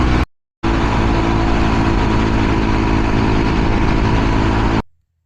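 Stock exhaust on a Honda Trail 125 motorcycle idling up close, a steady loud low rumble running about four seconds after a brief cut-in, then stopping.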